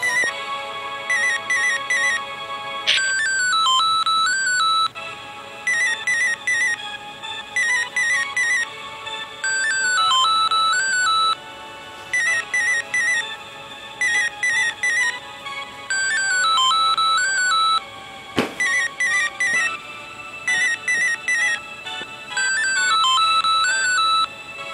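The Pigmask ringtone from the video game Mother 3 plays as a looping electronic phone melody of short beeping phrases, loud and alone, with a brief click partway through.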